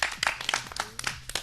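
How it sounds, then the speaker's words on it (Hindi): A small audience at a children's quiz programme claps for a team in a brief, uneven burst of scattered claps, fairly faint and with little talking. "तो एक बार टीम सी के लिए जोरदार तालियां।"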